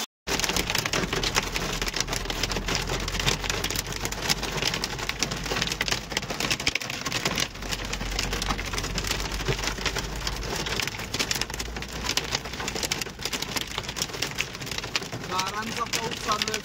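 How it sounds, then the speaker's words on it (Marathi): Hailstones pelt down near Yamunotri in Uttarakhand, striking glass in a dense, continuous rattle of rapid hard impacts, loud and close, with faint voices beneath. "गारांचा पाऊस चालू आहे."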